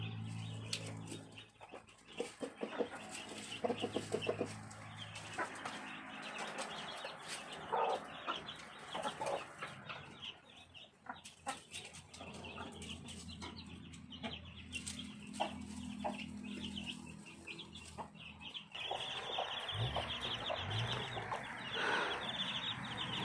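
Black chickens cluck softly and continuously, a brooding hen among them, close by at a Thai farm with steady low murmuring calls and occasional sharper notes over faint background noise.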